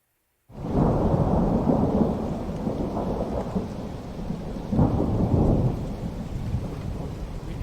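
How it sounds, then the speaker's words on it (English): Rain and rolling thunder in Grand Tactician: The Civil War, starting abruptly after a short silence with a heavy rumble, then steady downpour swelling again with a second thunder roll, no voices. "Ooh, and it's a really rainy day."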